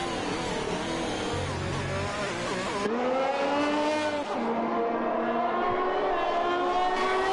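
A Ferrari Formula 1-style car in a sim racing game on the Canadian Grand Prix circuit, its high engine whine climbing in pitch through gear changes down a straight, with a commentator talking over it.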